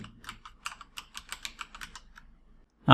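Fast, crisp keystrokes on a computer keyboard while entering a table name in MySQL Workbench, a close run of about a dozen clicks followed by a short pause and a final sharp tap.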